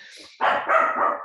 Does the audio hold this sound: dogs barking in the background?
yes